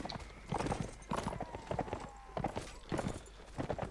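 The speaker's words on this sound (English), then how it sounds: "Come on, horse." Horse hooves clip-clop in a steady, busy rhythm in the Mount & Blade: Warband video game, with brief faint neighing and a voice briefly over the galloping.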